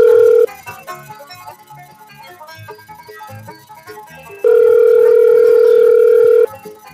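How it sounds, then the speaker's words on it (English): A telephone rings out while someone is called live on a radio show: two loud, steady ringback tones, one short and one long, with quieter music playing in the gap between them. "Come on, pick up, Houndboy."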